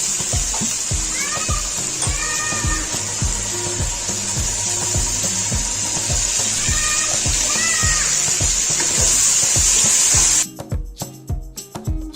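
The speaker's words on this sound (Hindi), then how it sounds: "थोड़ा सा पानी डालेंगे इसमें" Loud, continuous sizzling and bubbling from water poured into frying spices, salt, chicken powder, garam masala and black and white pepper in a pot for matar pulao, with stirring clatter, before cutting off near the end.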